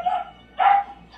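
Two yo-yos spinning along a floor in the Double Dog Walk trick give a whirring, buzzing hum in two bursts: one at the start, then a louder swell midway that fades out.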